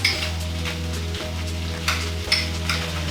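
Soybean paste and mushroom sauce frying in a pan, a steady loud sizzle with periodic scraping stirs and a few light clinks of utensil on the pan, no talk.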